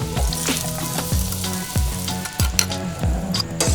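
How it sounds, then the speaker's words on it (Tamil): Milk vermicelli payasam being stirred after a tempering is added, with repeated scraping strokes of a spoon in a pot at a steady rhythm over low tonal hum, close and fairly loud, with no voices. "இப்போ நல்லா கலக்கணும். அதோட தாளிப்பையும் சேர்த்துக்கும்."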